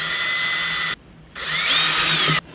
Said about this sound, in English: And then go ahead and drill it from the back side like I did the others.